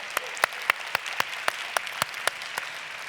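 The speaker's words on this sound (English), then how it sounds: "Round of applause." An audience claps at a government technology startup pitch final. The sparse, quiet claps sound like a small crowd and come at a steady pace. Some claps stand out sharply against a soft background of general clapping.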